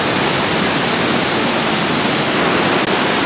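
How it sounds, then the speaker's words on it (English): The flat waterfall in the Skocjan cave area of Slovenia, a loud, steady broadband rush of falling water that fills the whole stretch without a break. "This is the flat waterfall."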